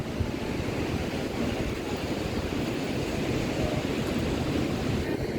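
Sea waves wash continuously onto a beach, a dense steady roar of surf with no breaks, loud and close throughout.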